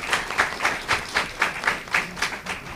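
A seminar audience claps in steady rhythm, clear beats at roughly quarter-second intervals with a soft crowd murmur underneath, fairly close and moderately loud.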